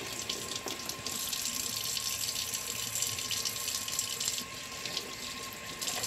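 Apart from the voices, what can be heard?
running tap water while washing a raw chicken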